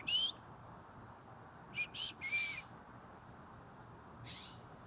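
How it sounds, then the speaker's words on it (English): Several short, high whistled bird calls ring out in a quiet backyard, one near the start, a cluster of three around the two-second mark and another near the end, over faint background hiss. "Do you hear the birds in the background?"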